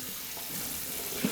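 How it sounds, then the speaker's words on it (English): Starchy rinse water pours off washed rice as it is cleaned for a Vietnamese meal, a quiet, steady watery wash that swells briefly near the end, with no voices. "Just pouring off that starch, and one more time."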